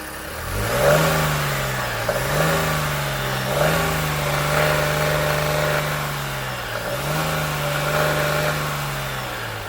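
A Nissan Rogue T33 1.5 KR15DDT engine revs up and down repeatedly in a slow rhythm, rising pitch with each blip of the throttle, close by with no talking.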